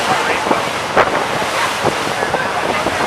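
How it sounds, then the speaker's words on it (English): Waves slap and wash around a boat near Mackinac Island in choppy water, with irregular splashes over constant roaring wind buffeting the microphone. "Waves are kind of picking up, bouncing us around a little bit."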